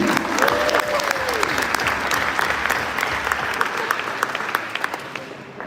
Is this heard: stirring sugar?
no